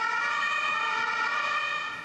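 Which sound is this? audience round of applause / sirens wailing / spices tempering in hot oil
sirens wailing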